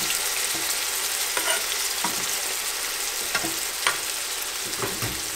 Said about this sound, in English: It only needs to bubble up for half a minute or a minute here, just to reduce a little bit and cook off.